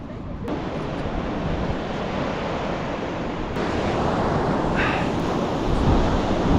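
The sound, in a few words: sea waves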